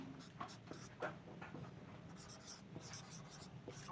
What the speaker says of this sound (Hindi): मैं सेंटेंस लिखता हूं यहां पे